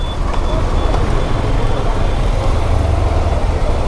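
Dense road traffic surrounds a motorbike stuck in a jam, a steady loud rumble of engines with a faint high reversing beep near the start and continuous road noise throughout.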